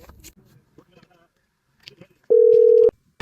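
A single steady telephone tone sounds while a call is placed, holding for about half a second at clear volume after a stretch of quiet speech, then cutting off sharply.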